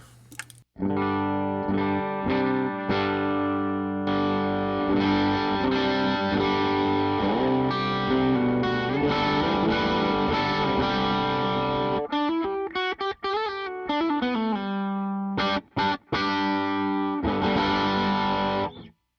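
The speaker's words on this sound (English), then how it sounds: "So it's a really handy overdrive." Electric guitar played through an overdrive pedal, with gritty sustained chords and lead lines, then choppy staccato bursts, loud and alone.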